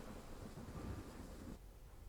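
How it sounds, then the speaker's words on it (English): Steady rain with a low thunder rumble in a Train Simulator game, a Class 166 train on the London to Reading line, the rumble building and then easing off near the end. "A bit thundery as well."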